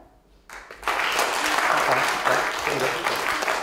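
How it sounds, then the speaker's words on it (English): A comedy showcase crowd in Edinburgh breaks into applause after a quiet start, the clapping swelling quickly into a dense, sustained roar of many hands, with a voice faintly under it. "if you think I can do this, clap now."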